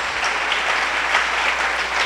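A church congregation applauds warmly and steadily, a dense wash of many hands clapping with no voices over it.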